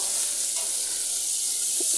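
Chopped onion sautéing slowly in oil over a low flame for a mushroom capsicum curry, giving a steady soft hiss and sizzle throughout with no talking.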